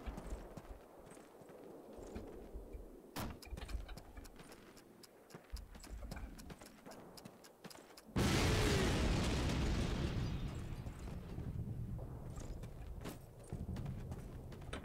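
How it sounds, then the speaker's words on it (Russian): Big gun firing in Call of Duty 4, with a loud booming explosion roughly halfway through that rolls into a long rumbling roar, preceded by scattered sharp clicks and pops. "Большая пушка, большой бабах."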